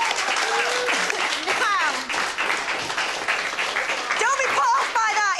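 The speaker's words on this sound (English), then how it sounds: "Round of applause there." Studio audience applause fills the room, loud and continuous throughout, with cheers and whoops rising over the clapping near the start and again toward the end.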